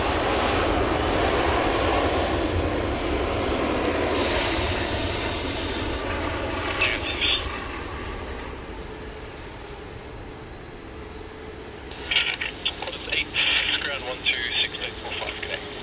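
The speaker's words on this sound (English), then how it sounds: "We've got Qantas QF8 just landed." A Qantas airliner on flight QF8 lands at Sydney Airport, its loud jet roar slowly fading before people start talking nearby.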